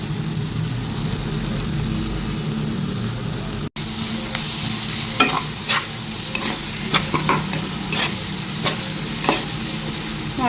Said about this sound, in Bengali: মশলার সাথে একটু ভেজে নেবো ভালো করে।